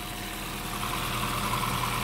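A 2014 Honda Vezel engine idles with a slight ignition misfire, giving a steady, quiet mechanical hum with faint unevenness, heard alone without voices.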